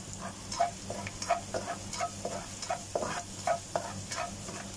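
Garlic fries for breakfast in a pan, hissing steadily beneath regular scraping stirs of a utensil, up close with no voices.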